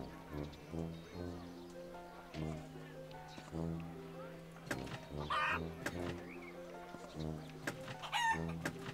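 Clucking and crowing of a chicken in the Wallace & Gromit's Grand Adventures video game, short bursts heard over looping game music with a rising squawk near the end.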